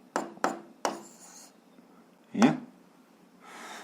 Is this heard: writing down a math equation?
yes